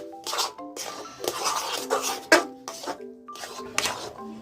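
Semolina halwa being stirred in a pan, giving intermittent scraping and light metallic clinks of a utensil against the pan in uneven bursts, fairly close.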